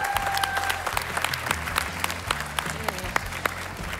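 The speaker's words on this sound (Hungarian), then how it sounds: "jár a hatalmas taps" Enthusiastic audience applause at the A Dal 2022 song contest final in Hungary, a dense, continuous patter of many hands clapping at moderate distance, lasting several seconds with faint voices underneath.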